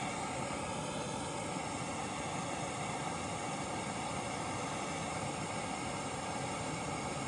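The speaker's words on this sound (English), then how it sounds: "going to take this torch and we're going to try and start it on fire" A gas torch roars in a steady, loud, broadband hiss as its flame is held against fireproofed material set on gravel, with no pauses and no talking.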